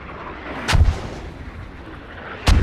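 Mortar fire in a competitive military video game match: two heavy, booming thumps about two seconds apart, with a low rumble between them.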